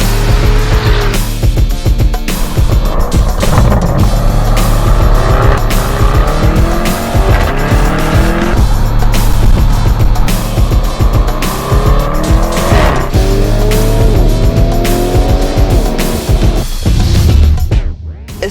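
A Lamborghini Urus SUV in Corsa mode roars loudly, its engine revving hard and rising through repeated gear changes, with tire squeal and racing-style bursts throughout and no talk.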